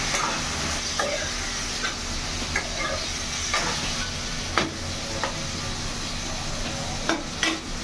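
Chicken is stirred into a simmering curry in a pan, with a soft continuous sizzle and occasional scraping clicks of the spoon at irregular intervals, close and fairly quiet, with no talking.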